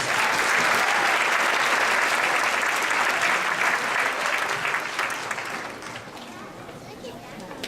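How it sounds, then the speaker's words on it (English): Applause from a school concert audience for a fifth grade band's trumpet section, a dense sustained roar of many clapping hands that fades somewhat toward the end. "Just give them a big round of applause."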